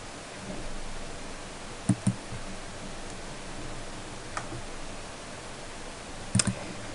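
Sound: mouse clicking Start Rip in Windows Media Player

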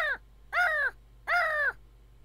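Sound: bird crying outside the window

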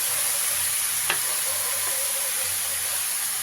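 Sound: salt-soaked eggplant pieces frying in a pan

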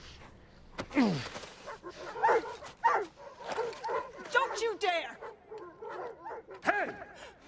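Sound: dog barking and whimpering

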